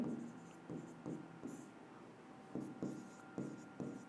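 Chalk or marker writing on a board during a Hindi-language physics lesson on centre-of-mass motion, a series of short scratchy strokes in an irregular rhythm, close and fairly quiet, with no talking.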